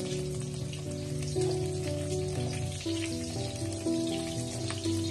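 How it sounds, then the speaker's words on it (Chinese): Pork belly fries slowly over medium-low heat in a wok, giving a steady, dense sizzle that runs unbroken and close, with no talk over it. "全程开中小火慢慢的炒制，把五花肉炒干水分"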